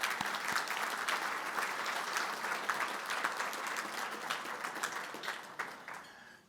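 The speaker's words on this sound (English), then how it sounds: "If we can give them a round of applause." Gala audience applauding honored guests at an anniversary event, a broad, even crowd clapping from across the room, sustained and gradually tapering off.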